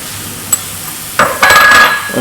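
Canned corn being stirred into a cottage pie filling in a pan, with a brief clatter followed by a louder stretch of scraping and stirring toward the end, close and alone.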